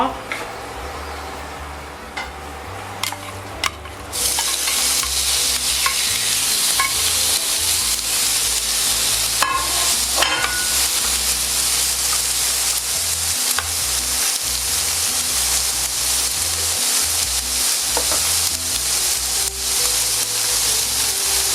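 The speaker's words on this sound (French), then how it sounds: "Donc là on va bien chauffer la poêle." Veal kidneys cooking in a very hot frying pan, with a loud, continuous sizzle that bursts in after a quieter start, plus occasional stirring and clinks of the pan.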